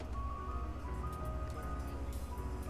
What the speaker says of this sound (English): And of course the ice cream truck is outside.